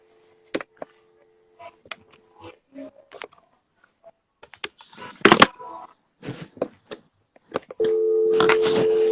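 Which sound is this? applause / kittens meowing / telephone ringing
telephone ringing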